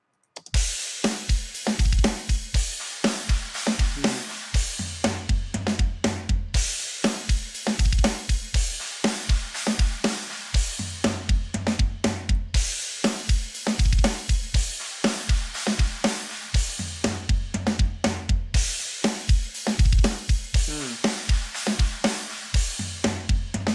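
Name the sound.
kick drum playback in a mix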